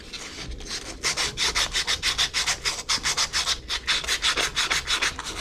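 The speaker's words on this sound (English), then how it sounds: "Sand it down" Rhythmic back-and-forth sanding strokes scrape across a leaking water pipe on an AAON water source heat pump, prepping it for a solder patch; steady, close and fairly loud, about a dozen quick strokes with no talking.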